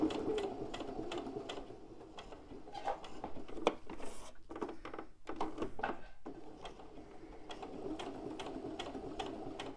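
A sewing machine stitches a Christmas appliqué in quick, rhythmic bursts of needle clatter, pausing briefly a couple of times before resuming, close and moderately quiet.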